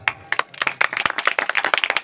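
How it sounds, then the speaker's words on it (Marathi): An audience at a kirtan bursts into clapping, a quick run of sharp, close hand claps building into a dense patter for a couple of seconds. "मग नुसतं आवडलं म्हणणार का तुम्ही टाळ्या वाजवणार?"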